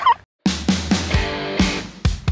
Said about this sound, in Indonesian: Ini jenis kalkun yang paling besar daripada yang lainnya.